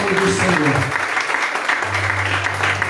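A church congregation applauds during a sermon, a dense, loud wash of many hands clapping together, with a preacher's voice sounding over it and organ-like tones underneath.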